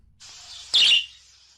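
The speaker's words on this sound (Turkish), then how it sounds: "Şimdi lanet kuşu çağıralım." One bright, high bird chirp rings out over a faint hiss, short and fairly close.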